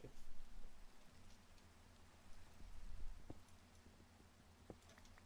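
Soft, steady rain in Minecraft patters in the background, with scattered drops tapping close by and a faint low rumble underneath.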